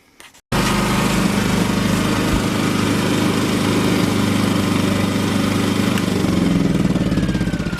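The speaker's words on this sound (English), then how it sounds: "even with that generator running." A portable generator used to backfeed a house starts up after a brief quiet moment, then runs loud and close with a steady buzzing engine drone that holds without letup.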